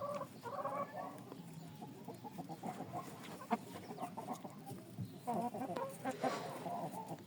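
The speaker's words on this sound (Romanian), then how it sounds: "Am și găinile care n-au ele treabă că eu sunt pe aici." Hens on a small farm clucking in short, irregular bursts, several birds close by and fairly soft, with some quiet background noise and no speech.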